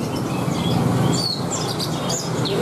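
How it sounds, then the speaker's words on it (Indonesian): Several caged birds chirp and tweet in a bird shop, with a continuous low background hum underneath the calls. "ada macam burung lainnya"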